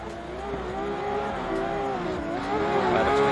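A drift car races at the Finnish Drift Cup at Djursland Ring, its engine holding a loud, steady rising drone with slight pitch wavers, close and continuous with no talk.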